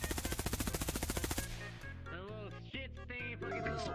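A gun fires a rapid, evenly spaced burst of about twenty loud shots in VRChat, cutting off abruptly into a sparse, tonal backdrop.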